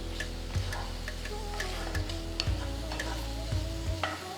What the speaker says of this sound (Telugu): మీడియం ఫ్లేమ్లో టొమాటోలని మగ్గే వరకు బాగా వేయించుకోవాలన్నమాట